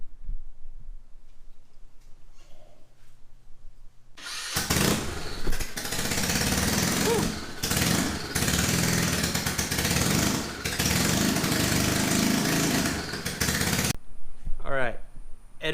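A small engine fires up after the choke is flipped and runs steadily for about ten seconds, loud and close with a rough, fluttering idle, then cuts off abruptly; faint talk is heard before it starts and after it stops.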